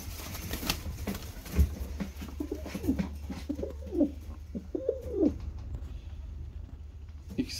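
Low, soft cooing from large male Posta Bango fancy pigeons close by, several throaty coos repeating in an uneven rhythm over a faint background hum.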